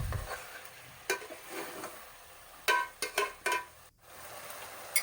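Yogurt is stirred into chicken Bombay biryani masala in a pot, with quiet soft scraping and a few distinct sharp spoon knocks against the pan, low background hiss, no speech.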